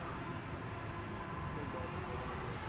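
A ten-year-old TUI Boeing 787-8 Dreamliner, registration PH-TFK, departs Amsterdam Schiphol with a steady, broad jet-engine roar that stays fairly faint and distant throughout.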